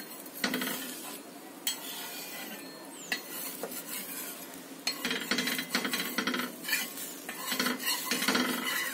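Bottle gourd dosa flipped in a pan, with a steady sizzle under repeated metal spatula scrapes and clinks against the pan.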